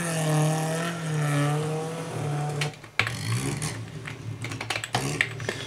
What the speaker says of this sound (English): We've got some sound effects here of the rally cars kind of zipping by.